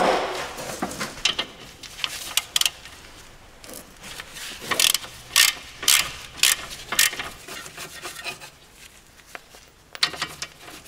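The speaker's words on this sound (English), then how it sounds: "next up is removing the caliper bracket. It's a 17? 18 millimeter." A ratchet clicks in short bursts while loosening 18 mm caliper bracket bolts on a Golf mk4, close and sharp, with pauses and metallic handling sounds between.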